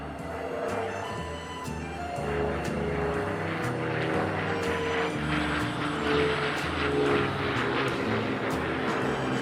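A Dassault MD 311 Flamant propeller plane drones past nearby at the Paris Air Show, its engine growing louder and fuller over several seconds in a steady, throbbing hum.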